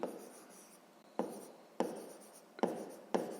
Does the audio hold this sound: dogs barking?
no